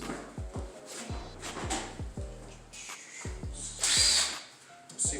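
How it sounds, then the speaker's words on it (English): An impact gun rattles off a go-kart's seat bolts in a quick series of short, sharp hammering bursts, close and fairly loud, with brief gaps between pulls of the trigger. "It's called an impact gun"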